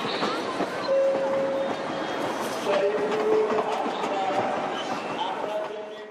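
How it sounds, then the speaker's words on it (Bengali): A passenger train pulls out of Howrah bound for Asansol, a steady rumbling rattle of carriages on rails with faint tonal squeals, continuous and fairly close throughout, with a voice speaking over it. "নির্দিষ্ট সময় ট্রেন হাওড়া ছেড়ে রওনা দিল আসানসোলের উদ্দেশ্যে।"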